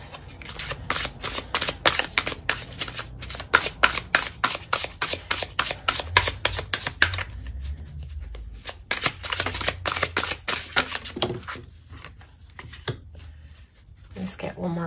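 Tarot cards being shuffled close up, rapid papery riffles and flicks in quick bursts with short pauses between them, while a person talks softly underneath.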